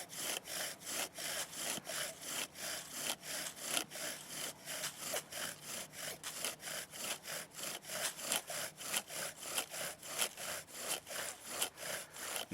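Rhythmic back-and-forth strokes of a bow drill spinning a wooden spindle against a wooden board to make fire, a steady rasping friction at a relaxed, even pace, close and alone.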